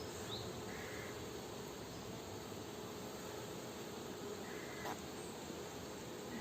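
Honeybees swarm around an opened hive frame with capped larvae, their dense continuous buzz filling the air with a few faint bird calls in the background.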